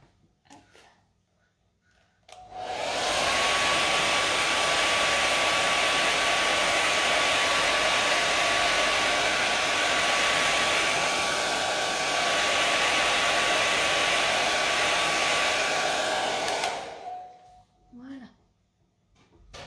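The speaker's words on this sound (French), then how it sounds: "Je crois que je vais repasser un petit coup de sèche-cheveux" A hair dryer blows steadily at close range over watercolor paint for about fifteen seconds, starting and stopping abruptly, with a faint whine riding over the whoosh.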